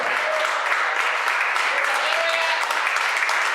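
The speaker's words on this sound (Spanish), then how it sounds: "Levántate y dale un aplauso al Señor." A church congregation applauding in praise during a Spanish-language service, a continuous even roar of many hands clapping, with voices blended into the crowd noise.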